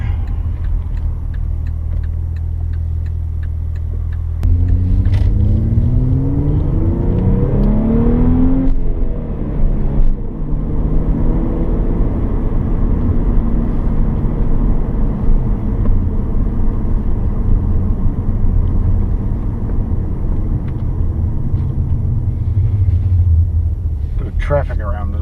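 A 2001 Audi B5 RS4 BiTurbo Avant drives along with a loud, steady engine drone and rumble that rises as it accelerates and shifts, heard from inside the car under ongoing talk.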